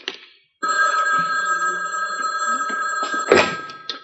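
An old-fashioned telephone bell rings loudly and continuously for a few seconds, ending with a thud, after a brief quiet start.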